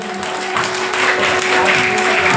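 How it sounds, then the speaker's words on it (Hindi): A large audience at a Bhagwat Katha honour ceremony in Kakori bursts into loud, dense, continuous applause. Many hands clap at once, close and steady, swelling slightly toward the end with no pause. "एक बार जोरदार तालियां होनी चाहिए।"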